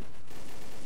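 P90 submachine gun fire in a video game, a short, dense burst of rapid shots filling the moment loudly and continuously.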